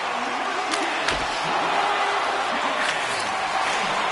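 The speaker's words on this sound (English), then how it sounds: "the crowd's on their feet, saluting the team after a hard-fought effort this evening" In an ice hockey video game with the Flames on the ice, a crowd keeps up a steady, dense roar of cheering for the whole stretch, with a few sharp thumps rising above it.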